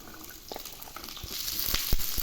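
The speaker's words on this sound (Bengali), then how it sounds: "সরষের তেল গরম হয়ে গেছে, এবার কেটে ধুয়ে রাখা সবজিগুলো দিয়ে দেবো।" Chopped vegetables hit hot mustard oil in a pan for pickle, a faint sizzle rising into crackling pops and spatters, close by with no talking.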